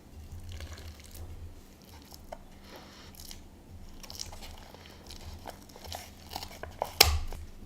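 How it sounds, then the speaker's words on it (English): Fruitcake batter pressed into a pan by hand, soft squishing, sticky mashing and faint crinkles at close range, with a few sharper taps near the end. "Make sure the cake is pressed down into the pan well."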